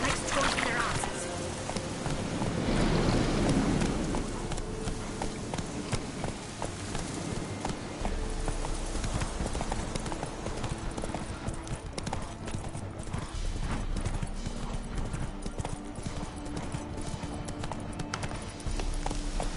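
Horse hooves galloping in the video game The Witcher 3: Wild Hunt, a steady rapid clip-clop running throughout at close range with continuous ambient background.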